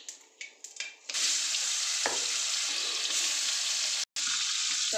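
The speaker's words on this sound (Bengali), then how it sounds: "ভাজা হয়ে যাচ্ছে, তেজপাতা দিয়ে দিলাম।" Turnip (kohlrabi) and taro pieces fry in a pan for a koi fish curry, first with a few faint clatters, then a loud, steady sizzle taking over after a second, broken by a brief drop near the end.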